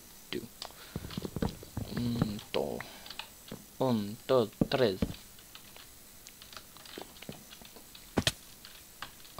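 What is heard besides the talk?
computer keyboard typing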